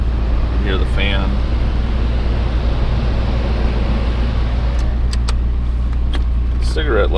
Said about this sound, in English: Hear the fan.